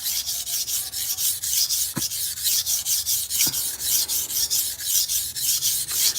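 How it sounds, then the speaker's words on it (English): A blade scrapes in quick, regular back-and-forth strokes across a flat 1000-grit water stone, a close, rhythmic rasping that holds steady throughout with no talking. "we're just refining that out and getting it to 1000"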